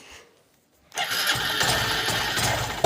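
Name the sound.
motorcycle engine being kick-started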